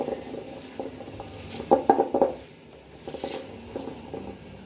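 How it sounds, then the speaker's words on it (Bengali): Fish and spice ingredients for a Bengali morola fish chorchori with spring onion greens being mixed and kneaded by hand in a bowl, giving soft, close squelching and patting bursts, strongest in a short cluster midway, with no talking. "এইভাবে হাত দিয়ে কিন্তু এই উপকরণগুলো সব মিশিয়ে নেবে আগে ভালোভাবে"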